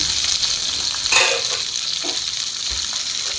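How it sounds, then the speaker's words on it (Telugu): Dried red chillies and mint leaves frying lightly in oil for a coconut mint chutney, a steady close sizzle with a few soft stirring scrapes, loud and continuous with no talking. "ముందుగా ఎండుమిరగాయలని అలాగే పుదీనాని ఫ్రై చేసుకోవాలి లైట్గా ఆయిల్లో"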